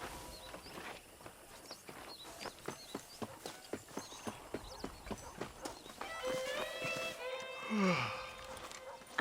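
Horse hooves clip-clopping at a steady walking rhythm in the Western video game Red Dead Redemption, a clear run of evenly spaced hoof strikes that give way to louder outdoor sounds and a brief whinny toward the end.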